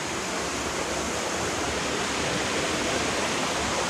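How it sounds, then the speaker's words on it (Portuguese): A stream or waterfall rushes steadily nearby, a loud, unbroken wash of flowing water with no pauses and no voices. "que água maravilhosa, Jesus, que é isso?"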